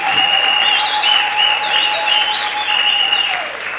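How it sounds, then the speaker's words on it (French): A wedding congregation in a church claps loudly for the newly married couple, a thick continuous roar of hands with whistles and cheers riding over it, fading slightly at the end. "Applaudissez très très fort pour eux"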